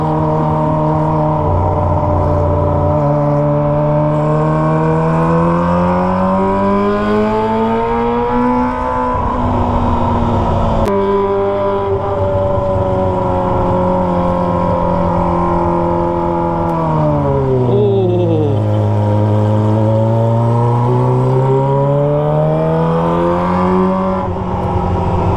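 Kawasaki ZX25R motorcycle fitted with a Toce exhaust, riding through a quiet street, its high-pitched engine howling loud and close as revs climb, dip and climb again through gear changes, continuous with no talk.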